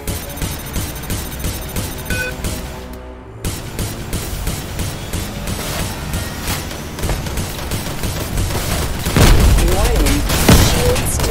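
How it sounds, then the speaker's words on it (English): Weapons fire rips into a pirate turret in the space game Conflict of Stars, a loud sustained barrage with booming blasts that swells near the end, layered over game music. "We'll blow up this pirate turret."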